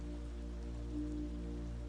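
Gentle rain falls steadily as a soft, even wash of sound, close and continuous with no talking, suited to a sleep setting.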